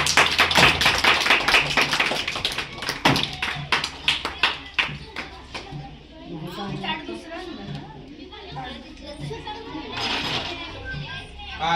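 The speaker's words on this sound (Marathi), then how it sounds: "हा सगळे टाळ्या वाजवायचे." Schoolchildren and adults clap at the opening of a school children's market, a burst of close applause with sharp taps that thins out, followed by chatter and children's voices.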